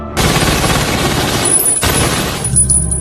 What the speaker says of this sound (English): one of the guys outside starts shooting at the store